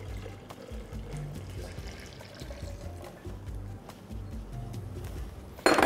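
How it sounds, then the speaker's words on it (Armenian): Milk is poured into pancake batter made with pumpkin, giving a steady liquid trickle and splash that runs continuously for several seconds, close and moderately loud, ending with a brief sharper burst. "լցնում ենք կաթը"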